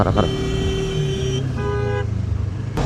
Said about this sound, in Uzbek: O'zi siqishga siqadi, signal chaladi, lekin ketaveradi mashina haydab